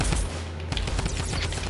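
Rapid video game gunfire during a build battle match, a dense run of loud, close shots with no pauses across the whole stretch.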